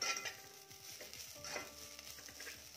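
Grated coconut and coriander leaves are sautéed in a hot pan off the flame for a Malvani curry masala, with a steady soft sizzle and spatula stirring scrapes close by.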